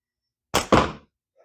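A slingshot fitted with Tritium Rose bands fires a shot, giving a sharp double thwack, two quick loud hits about a fifth of a second apart, close by, followed by silence.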